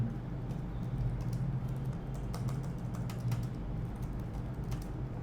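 Fingers typing on a computer keyboard give soft, rapid, irregular clicks, faint and steady throughout, with no speech.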